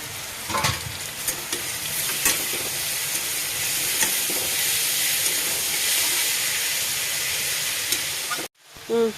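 Pumpkin pieces fry in a pan with a little sugar, giving a loud, steady sizzle and hiss throughout, with occasional clinks and stirring scrapes, then a brief pause and a thud near the end.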